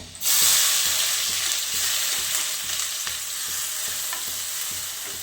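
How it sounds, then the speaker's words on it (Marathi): Chopped onion dropped into hot oil with garlic in a pan, cooking over full gas for paneer bhurji, gives a loud, steady sizzle with occasional stirring scrapes, close and continuous, with no talk. "लगेच आपण याच्यामध्ये कांदा टाकून घ्यायचा"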